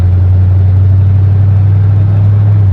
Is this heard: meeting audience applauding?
no